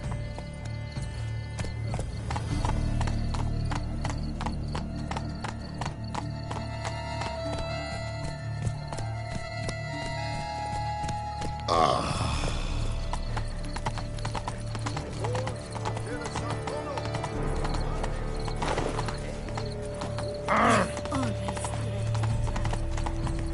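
A horse gallops in The Witcher 3 with rapid, steady clip-clop hoofbeats throughout, occasional snorts and a whinny, over low ambient music and scattered game sounds.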